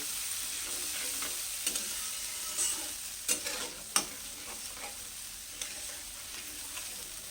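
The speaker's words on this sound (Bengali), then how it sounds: "মশলার বাটি দিয়ে একটু জল দিচ্ছি যেটাকে ভালো করে একটু কিছুক্ষণ কষে নিতে হবে" Spice paste with turmeric and a splash of water stir-fried in a pan for Bengali eggplant chorchori, giving a steady soft sizzle with scattered scraping clicks of a spatula, close and moderately quiet, with no talking.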